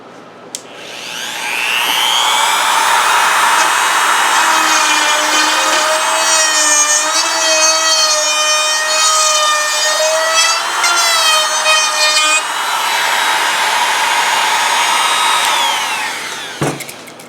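A Harbor Freight Bauer trim router spins up and cuts a half-inch pass into wood, a loud, close high-pitched whine with shifting grinding tones as it moves along, then winds down.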